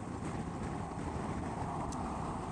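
A Honda Transalp 750 motorcycle, heavily packed, rides along the M40 motorway, heard as a continuous loud roar of engine and wind buffeting with no break, close to the microphone.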